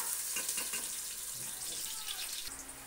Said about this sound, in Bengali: পেঁয়াজ কুচিগুলো ভাজা ভাজা করে নেবো।